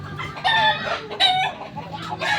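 Several close, loud rooster clucks and throaty calls in quick bursts, with short pauses between them.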